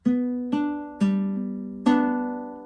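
Classical guitar playing a bar of Aguado's waltz, four plucked fretted notes in waltz time, each ringing clearly and decaying, close and alone without talk.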